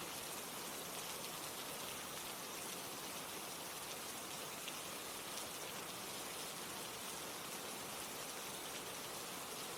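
Steady rain falls in a continuous, even hiss with no other sounds, a constant wash that serves as sleep-aid background.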